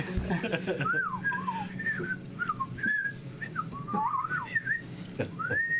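A person whistles a wavering, lilting tune in short melodic phrases with small slides between notes, close and clear over a low steady background hum.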